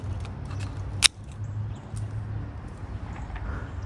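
Pruning shears make a single sharp snip through a grape vine cane just above the node, a brief crisp click standing out over a low steady background hum in an outdoor garden.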